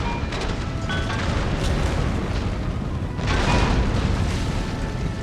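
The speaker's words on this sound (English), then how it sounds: "Slicing through our formations there with the cannons" Cannon fire in the Empire: Total War video game rolls on as dense, continuous booming and rumbling, with a louder swell of blasts near the end.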